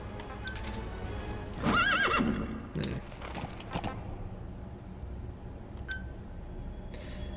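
D-Horse in the Metal Gear Solid V: The Phantom Pain video game gives a loud whinny amid clip-clopping hooves, followed by quieter hoof steps and faint game sounds.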